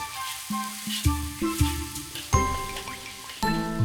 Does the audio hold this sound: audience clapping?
no